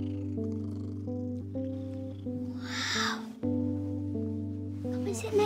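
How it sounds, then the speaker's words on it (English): A cartoon cat in an animated children's episode purrs and gives a short meow over a steady sustained tonal backing, fairly loud and close. "There's a cat in my bedroom"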